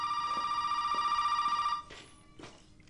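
Telephone ringing in the video game Resident Evil 7, a steady electronic bell tone that rings for under two seconds and then stops, followed by faint footsteps.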